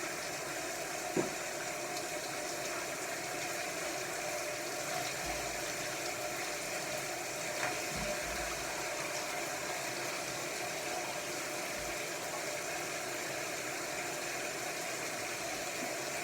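Steady water from a shower or tap runs during a hair wash with clarifying shampoo, a constant hiss broken now and then by faint clicks and soft thuds.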